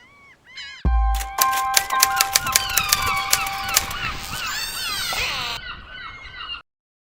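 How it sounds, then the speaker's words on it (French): Laughing gulls call in raucous, repeated laughing cries, loud and close, with several birds overlapping in a noisy chorus. "l'animal qui est certainement le plus bruyant et le plus énervant de nos littoraux, la mouette atricile"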